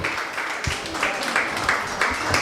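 A studio audience claps and applauds as the first guest is welcomed at a party show, a dense, steady patter of hands with some louder swells and a voice faintly under it.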